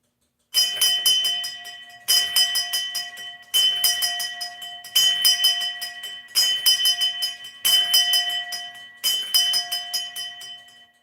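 Seven bright ringing strikes, each hit as a rapid cluster of small bell tones, come at steady intervals of about a second and a half and fade between strikes in a quiet room.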